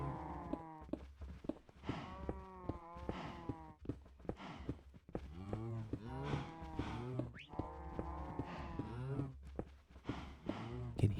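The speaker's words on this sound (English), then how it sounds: "You can hear our cows. They must be right above us." Cattle moo repeatedly in a let's-play video game, the drawn-out calls coming from overhead while digging a tunnel underground, with soft footsteps between them.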